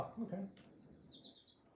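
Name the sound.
bird chirping in video game Little Kitty Big City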